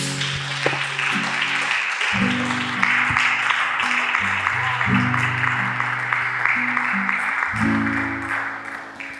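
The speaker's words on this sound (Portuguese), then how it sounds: "vamos aplaudir o Senhor Jesus" A church congregation claps together in steady applause while organ or keyboard chords play underneath, the clapping dense and continuous throughout.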